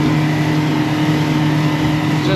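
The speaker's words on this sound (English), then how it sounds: "The motor's kind of louder in this boat though." A loud, steady outboard motor drone, a Yamaha 115 HP on a 2006 Duckworth Advantage 18 boat under way, hums continuously at close range, an even engine roar with no pauses or change in pitch.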